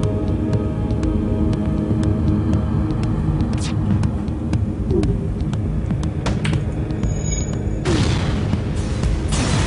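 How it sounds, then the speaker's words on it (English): An enemy ship explodes in a video game with loud booming rumbles and bursts over a constant dense roar of game audio, ending in a sharp final blast. "Reduce their hull to 0, and they will explode."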